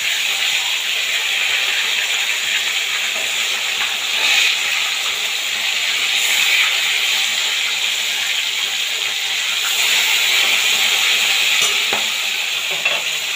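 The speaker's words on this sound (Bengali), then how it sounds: "দেখুন একটা পাশ খুব ভালোভাবে ভাজা হয়ে গেছে।" Large tilapia fish fry in oil in a pan, producing a steady, even sizzling hiss that stays constant throughout without speech.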